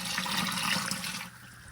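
Water is poured into a popcorn kettle, with sugar, oil and corn kernels, making a short steady splashing pour that fades out near the end.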